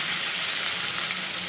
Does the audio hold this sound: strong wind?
no